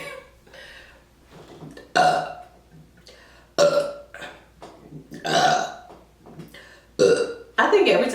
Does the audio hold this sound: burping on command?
yes